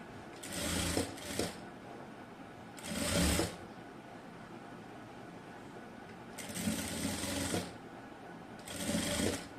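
A sewing machine stitches lace around a rounded neckline in four short bursts of rapid, close whirring, with quiet pauses between as the fabric is turned.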